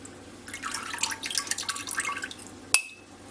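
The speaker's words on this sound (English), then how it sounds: "a slotted spoon and take off all the fat" A slotted spoon skimming fat off homemade turkey stock into a bowl, giving soft liquid sloshes and drips close by, ending with a single sharp clink of the spoon against the bowl.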